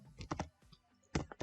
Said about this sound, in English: So if you type